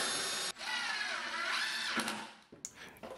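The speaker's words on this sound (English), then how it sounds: "what I want to do is countersink, but also drill slightly into the board that I'm going to be screwing into" A power drill countersinks holes into a wooden board for a floating shoe shelf, a loud whirring bit spinning for about two seconds, then stopping, followed by short clicks and a brief restart.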